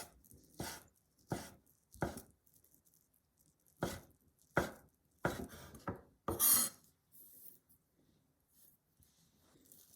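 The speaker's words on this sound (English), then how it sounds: "Cut thin eggs into thin stripes." A knife slicing a thin egg omelette into fine strips on a cutting board, a series of about eight crisp, close chops in irregular rhythm with quiet pauses between.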